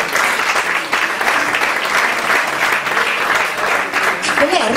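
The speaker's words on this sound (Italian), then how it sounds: "Applauso per lei." A live audience claps steadily and loudly throughout at a singing contest event held in a café, the applause sustained without a break.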